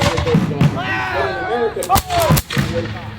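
Musket volleys at a 250th-anniversary re-enactment of the Battle of Great Bridge crack out as sharp, loud reports amid a rumble of outdoor noise, while shouted commands and voices carry through.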